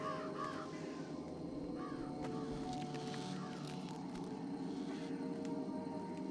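Birds cawing in the Jenny LeClue video game, several crow-like calls spread over a steady ambient background, moderately loud and without talk.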